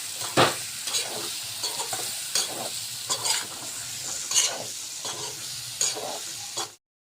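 Potato bhaji with garlic and gram flour frying in a pan, a soft steady sizzle broken by repeated scraping stirs from a spoon. The stirs come close, every half second to a second, with no talk.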